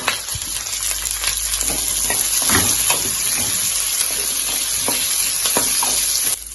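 Capsicum tossed into onions and chilli frying in a pan, giving a loud, close sizzle with stirring scrapes and clatters throughout, and no talk.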